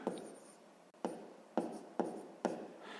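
A pen writes numbers on paper in a quiet room, five short scratchy strokes in quick succession, each one sharp at the start and then fading, close and soft.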